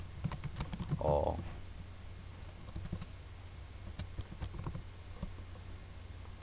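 Keys tapped on a computer keyboard while entering menu items for a notepad program in Visual Basic, a light, quiet patter of irregular clicks through the stretch with a short burst of other sound near the start.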